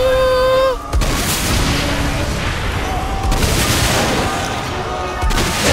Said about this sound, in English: Let there be explosions. Blow up all the things.